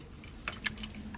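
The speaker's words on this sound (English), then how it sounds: "Let me turn my car off." Keys jangle in a few bright metallic bursts close to the microphone inside a car as it is switched off, with a low steady hum beneath.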